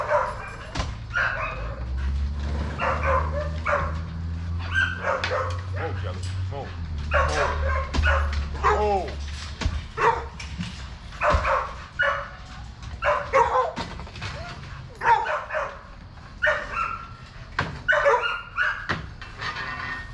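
Dogs bark and yip repeatedly at close range, including a female in heat, with frequent sharp outbursts over steady human talk and a low hum running through the first half.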